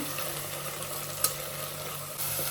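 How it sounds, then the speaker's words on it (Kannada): Fenugreek leaves frying in oil in a pan, a soft, steady low sizzle with faint stirring, a single small clink near the middle. "ಫಸ್ಟು ಮೆಂತ್ಯ ಸೊಪ್ಪು ಹಾಕ್ಕೊಳ್ಳಿ, ಫ್ರೈ ಮಾಡ್ಕೋಬೇಕೀಗ"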